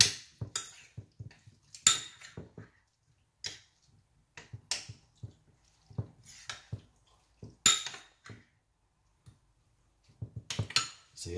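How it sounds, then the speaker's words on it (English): Grated cucumber and ginger being mixed in a container, heard as sparse, irregular clinks and scrapes of utensil against the container, with short quiet gaps between strokes. "What you want to do is mix the grated cucumber and ginger together."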